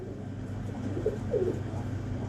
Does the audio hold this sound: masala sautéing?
no